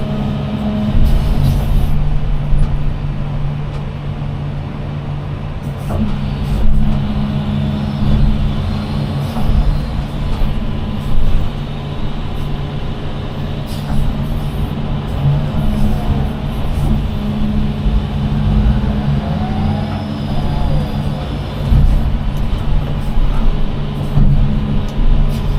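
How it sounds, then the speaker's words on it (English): A bulldozer drives during dirt work on a home site. Its diesel engine gives a steady, loud, low rumble close by for the whole stretch, with small surges and clanks on top and no talk. "Driving the dozer like it's going out of style"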